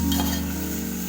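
Onions stirred in hot oil in a pan over a stove on high heat for an egg fry, a steady sizzle with a faint scrape of the spoon, close and continuous with no voices.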